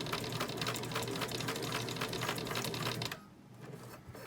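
A sewing machine stitches in reverse, a fast steady mechanical rattle of the needle for about three seconds before stopping abruptly, leaving a quieter hum.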